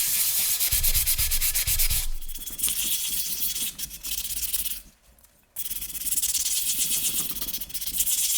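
Sandpaper rubs by hand over a part of a 1940s AGM KampLite RL-3 lantern being smoothed before primer, a steady close scratchy hiss with a short pause and brief gaps, heard alone.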